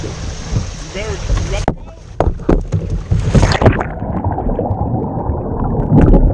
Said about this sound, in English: We're going down a little turbulent area, a little rapid, sort of kind of a swift little cut through.